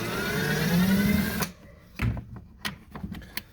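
Hinge bolts come off an IcyBreeze cooler: a close, loud mechanical whirring for over a second, then a handful of sharp clicks and knocks as the bolts loosen.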